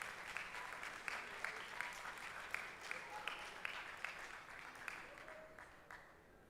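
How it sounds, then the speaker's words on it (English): An audience claps at a spoken word contest final, a lively, uneven patter of many hands with sharp individual claps standing out, fading slightly toward the end. "Please let's give her a round of applause."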